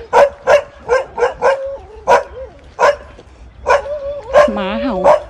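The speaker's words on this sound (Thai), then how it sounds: "หมาเห่า" A dog in a rural rice field area barks repeatedly in sharp, close, loud yaps with short irregular pauses, some drawn out into whining yelps, while someone talks over it.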